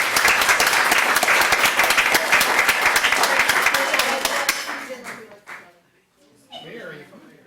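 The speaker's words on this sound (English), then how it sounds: "Let's give them all a round of applause." A city council meeting crowd gives a round of applause, dense and steady clapping for about four seconds before it thins out and stops, followed by a brief murmur of voices.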